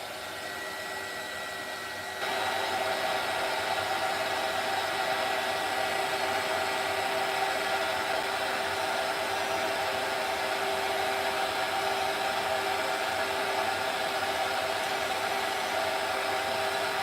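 A dryer blows on a washed mask, a steady loud whooshing airflow that switches to a higher setting after a couple of seconds and then runs continuously.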